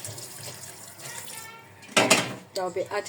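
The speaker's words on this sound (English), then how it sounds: "So I'll be washing my dry fish and show it to us that I'll be adding." Dried fish is washed under a running kitchen tap, water splashing in loud bursts near the end after a quieter stretch of background noise.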